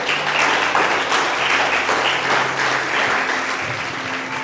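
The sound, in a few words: congregation applauding in church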